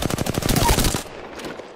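Automatic weapon fire in Apex Legends: a rapid burst of roughly a dozen close, loud shots lasting about a second, then a brief faint tail.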